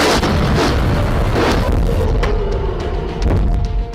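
Air defense system firing at suspected drones approaching a military base produces a loud, continuous broadband boom and rumble that fills the whole span, with a sharp crack near the middle and no voices.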